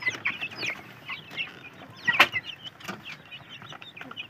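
Two-month-old chicks on a farm cluck and chirp in scattered, overlapping bursts, fairly close, with one louder squawk in the middle.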